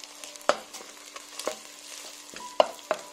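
Tomatoes frying in a pan for a Tunisian chakchouka, a low sizzle broken by several sharp spoon knocks and scrapes against the pan at irregular intervals, close and clear with no speech.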